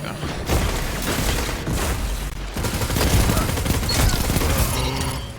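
Dense, loud shotgun gunfire in the first-person shooter video game Destiny 2, with booming blasts, overlapping shots and busy game effects filling the whole stretch without a break.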